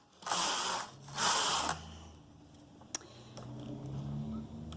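Brother knitting machine carriage sliding across in normal knitting, two loud whooshing rattling passes followed by quieter mechanical clicks and a low hum, close by.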